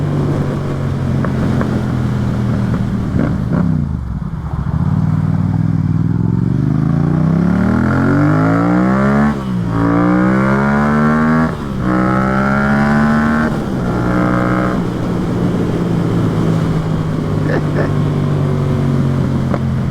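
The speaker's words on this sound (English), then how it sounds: "This bike's still fun. And I do like how it pops." A Yamaha MT-07 (FZ-07) motorcycle ridden on the road, its engine loud and close, repeatedly revving up through gears with rising pitch sweeps and brief shifts, under steady wind noise.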